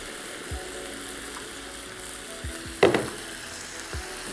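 Chicken tikka pieces with leftover masala sizzle steadily on a tawa over lowered heat, a close, continuous fry hiss with a few brief pops and one sharper crackling burst midway.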